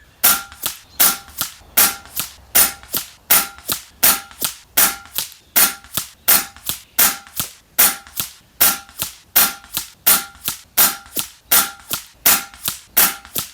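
Rapid, evenly spaced shots from an FX Wildcat .22 air rifle at a 100-yard target, about two sharp cracks per second at close range, each loud and clear with no talking.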